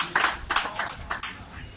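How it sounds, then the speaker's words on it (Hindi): Audience applause welcomes an honoree, journalist Rushmi Sharma, at a felicitation ceremony: several loud, irregular bursts of clapping from a nearby crowd, with no talking over it. "इनके नाम पर एक जोरदार तालियों से इनका स्वागत किया जाए"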